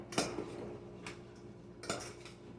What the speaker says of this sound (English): And then I'm going to stir it around.